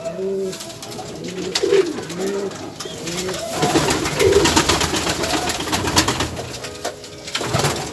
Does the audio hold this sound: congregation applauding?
no